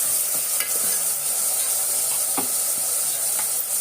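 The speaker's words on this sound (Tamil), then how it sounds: "தக்காளி வெங்காயம் வதங்கினா உப்பு போட்டுக்கணும்." Tomatoes and onions sautéing in a pan, a steady loud hiss of frying with occasional scraping strokes of a spoon stirring through them, close and continuous with no talking.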